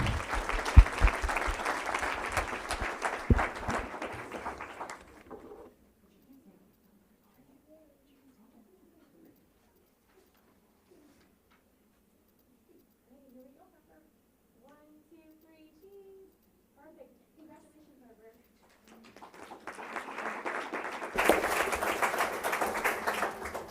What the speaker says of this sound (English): Give a warm applause to Harper Swain.